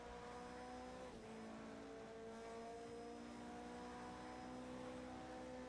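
Race car engine in Project Cars 2, played in VR through Oculus Quest Link, a steady sustained drone with a brief dip in pitch around one second, held at a quiet level with no voices.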